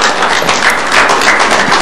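Audience applause fills a mayoral debate hall, steady and dense clapping from a crowd sustained throughout without a break.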